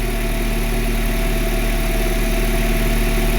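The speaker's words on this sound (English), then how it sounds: "Looks to me now that we have to set our idle control." A 1995 Mercedes Model 210 running in an overly rich condition idles too low, a steady, loud, continuous engine drone with a low rumbling vibration, close up and with no talking.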